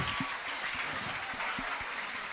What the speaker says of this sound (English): So round of applause for the two Landmark kids that are coming off the field.